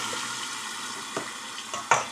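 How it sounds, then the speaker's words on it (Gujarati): Tomatoes and a green chili hit hot oil in a pan covered with a lid, giving a close, steady sizzle with a few sharp spatters and pops near the end. "હવે નાખ્યા છે ટમેટા."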